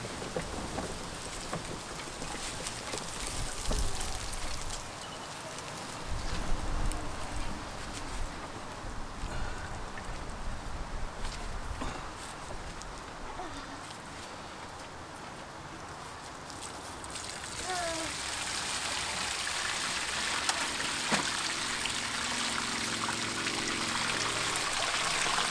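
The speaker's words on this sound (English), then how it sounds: "So I'm going to have to tip out as much of this water as possible." Water is tipped out of an aquarium tank during a tank removal, a continuous splashing pour and trickle that runs steadily for the whole stretch, moderately loud and without voices.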